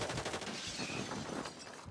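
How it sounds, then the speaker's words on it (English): An airstrike slams down during a Call of Duty Warzone 3 match in Vondel Park, a dense, steady barrage of blasts and rattling fire filling the short stretch at close range without letup. "I just got hit with a fucking airstrike"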